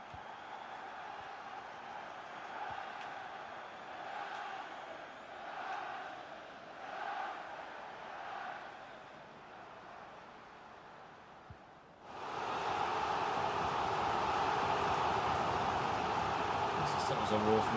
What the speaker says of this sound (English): That was a roar from the crowd, wasn't